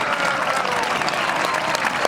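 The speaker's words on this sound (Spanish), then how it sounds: "le brinden un fuerte aplauso" A crowd at a jaripeo rodeo in Santa Fe de la Laguna, Michoacán, claps in a dense, continuous roar of applause with a faint voice now and then underneath.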